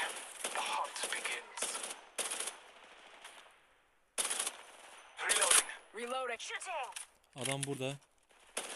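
Bursts of automatic gunfire in the mobile battle-royale game Apex Legends Mobile, rapid rattling volleys close by, with a pause and further bursts, while players talk over the shooting.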